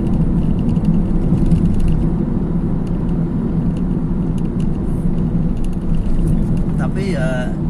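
Steady low cabin road roar inside a Honda Jazz RS GK5 automatic cruising on the Jakarta–Cikampek toll road, a continuous loud rumble of tyres and engine with brief faint higher sounds near the end.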